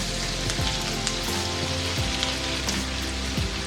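Mustard seeds and spices sizzle and crackle in hot oil for Kerala fish pickle, a steady close hiss with scattered pops throughout, no talking.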